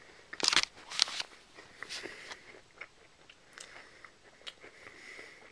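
Close crunching bites into crunchy snacks from a claw machine, two loud crunches early then softer chewing and small crackles, with no talk.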